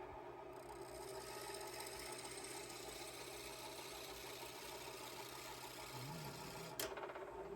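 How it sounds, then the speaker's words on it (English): Drill bit boring steadily into a wooden EDC pen blank, a continuous mid-pitched machine whir with a faint rattle, close and even throughout, ending in a brief sharp click near the end. "Not a lot of resistance on drilling."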